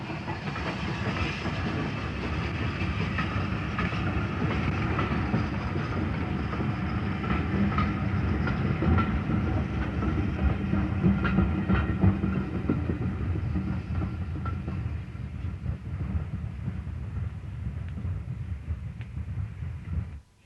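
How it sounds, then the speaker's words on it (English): A North London tank steam engine runs steadily at night, with a continuous low rumble, rhythmic clickety-clack of wheels and a soft hiss, close and fairly loud throughout. "There's something romantic about a steam train at night"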